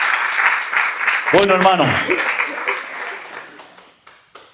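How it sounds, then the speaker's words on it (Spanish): A church congregation applauds together in a dense wash of clapping. A voice speaks over it as the clapping thins and tapers off toward the end. "Fuertes aplausos a nuestro Dios."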